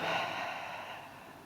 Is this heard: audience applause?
no